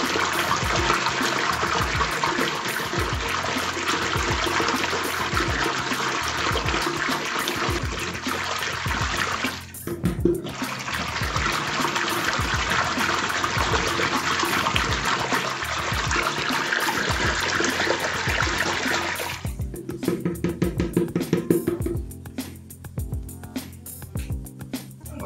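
Plaster and water being beaten together by hand in a container, a steady wet churning and sloshing that runs nearly continuously, with a short pause around ten seconds and a rougher, thinner stretch near the end.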